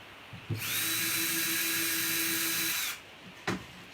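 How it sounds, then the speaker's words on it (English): Cordless power drill boring pilot holes into timber for a wooden flower bucket holder, a single high whine lasting about two and a half seconds, with clicks before and after, close and loud, no talking. "And then I'm just going to pre-drill in here."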